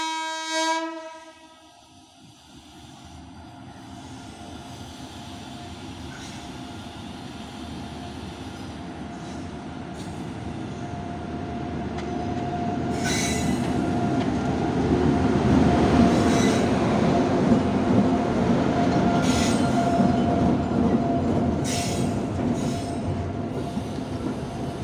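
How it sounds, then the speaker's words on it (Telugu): The Guntur–Aurangabad Express pulls out of Kurnool station, its horn sounding at the start, then a steady rising rumble of wheels and carriages building to a loud, sustained roar, with no voices. "train number 172-53 Guntur Aurangabad express వచ్చేసి కర్నూలు నుంచి అయితే డిపార్చర్ అవుతుంది"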